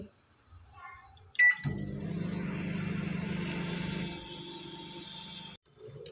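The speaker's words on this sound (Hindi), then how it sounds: "टू मिनट्स के लिए माइक्रोवेव करके लेंगे" An LG microwave oven on high power hums steadily for several seconds after a click and beep while heating dal tadka, its drone fading near the end before a door sound.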